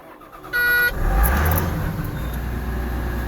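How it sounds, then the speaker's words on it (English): A wheel loader engine turns over with the key: an electronic beep tone sounds first, then the engine catches and settles into a loud, steady diesel idle rumble close by. "First things first, we're going to put the key in the loader."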